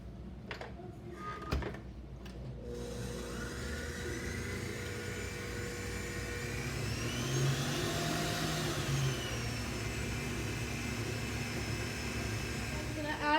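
Electric mixer blending New York cheesecake batter with whipped cream, a steady humming whir that rises slightly in pitch midway, with a few clunks at the start.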